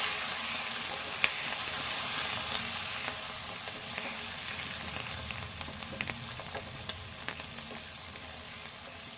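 Peanuts, chana dal, chilies and onions frying in hot oil for upma give a steady close sizzle, with occasional sharp pops and crackles and a few light stirring scrapes, no voices.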